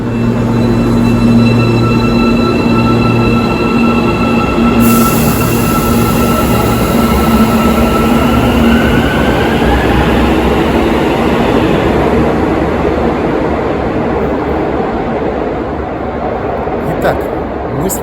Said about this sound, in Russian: Поезд только что ушел